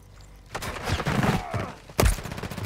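Gunfire in Call of Duty: Modern Warfare III on the Favela map, a burst of shots followed by a sharp loud blast near the end, close and punchy amid game noise.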